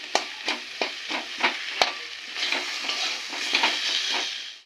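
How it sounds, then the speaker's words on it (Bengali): Mashed potato chokha fries in a pan, with a steady sizzle cut by rhythmic scraping stirs, about one stroke every third of a second, close and clear with no talking. "একটু এরকম করে ভেজে নেবো"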